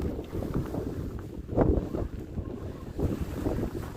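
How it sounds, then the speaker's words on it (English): Strong northeast wind gusting across the Kilauea volcano caldera buffets the microphone with low rumbling roars, swelling in irregular surges with a sharper gust midway, loud and close, no voices. "It's very windy."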